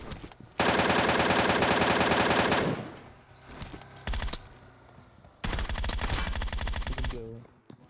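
Two long bursts of rapid automatic fire from Groza and MK14 rifles in PUBG, loud and close, separated by a short pause with a few scattered shots.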